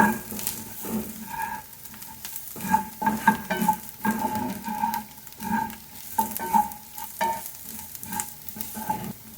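Prawn roast masala with chilli powder and garam masala is sautéed in a pan, with a steady close sizzle and frequent rhythmic scraping and clattering of a spoon stirring against the metal.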